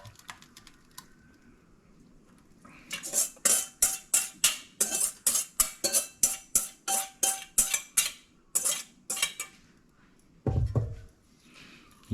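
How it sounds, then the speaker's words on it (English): A whisk rapidly mixing wet and dry carrot cupcake batter in a bowl, with a quick series of close clinking, scraping strokes in an even rhythm, a brief pause, and then a few more strokes. "Using a whisk, I'll just mix this all in"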